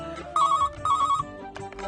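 A telephone rings twice in quick, trilling bursts in an office comedy scene, with background music underneath.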